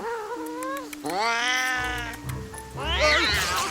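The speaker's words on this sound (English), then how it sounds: "The butler tries to pick up the cat, which goes about as well as you'd expect." A cartoon cat yowls and caterwauls loudly as it is picked up in an animated film, drawn-out rising and falling meows up close, with a voice mixed in.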